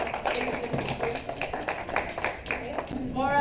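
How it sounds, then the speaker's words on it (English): A small audience gives a round of applause for panel members at a school Pride Day panel, light scattered claps running a few seconds with voices mixed in underneath. "Can we give a round of applause for our panel members?"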